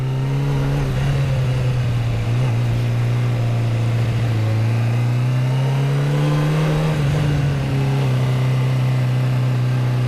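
Motorcycle engine pulling steadily in first gear during a street ride, a continuous loud low drone whose pitch rises and dips gently with throttle changes, with wind noise over it.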